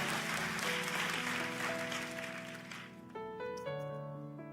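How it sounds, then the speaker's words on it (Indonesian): Church congregation applause for the praise and worship team, broad clapping that fades over about three seconds into sustained keyboard chords ringing on alone. "Boleh kasih tepuk tangan yang dahsyat buat tim praise and worship kita."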